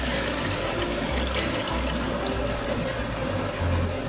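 Water poured into a cooking pot while making Japanese curry, a steady continuous splashing rush at close range, with no talking.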